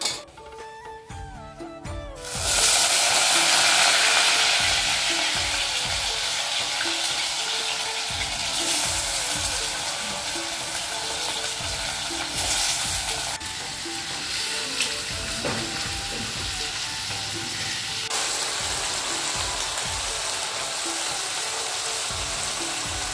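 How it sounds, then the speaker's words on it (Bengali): Potatoes frying in hot oil, a loud, dense sizzle that surges right after a few seconds of quieter kitchen clatter and then runs steadily with intermittent stirring and scraping, no one speaking. "এখন ভেজে নিব আমি আলু।"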